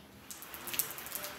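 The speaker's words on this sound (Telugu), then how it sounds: "పొద్దునైతే మళ్ళీ ముసురు అంటుకుంది." A steady morning drizzle of rain patters softly, with scattered light drops ticking over a faint, even hiss and no voices.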